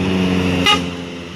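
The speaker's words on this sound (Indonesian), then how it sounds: "ternyata ada NPM ya tadi di klakson sama sopirnya" A single short honk of a Hino front-engine bus horn over a steady idling engine rumble.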